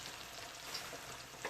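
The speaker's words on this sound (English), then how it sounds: "when you're frying chicken, there ain't no way possible it's gonna get done in under 16 minutes" Chicken deep frying in hot oil gives a steady, close, dense sizzle and crackle with no voices over it, and small popping bursts rise out of the constant hiss.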